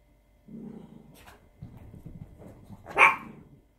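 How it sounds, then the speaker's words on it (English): A dog nearby gives low growling barks and then one sharper, louder bark near the end, with quiet gaps between them and no talking. "There we go, dog's barking."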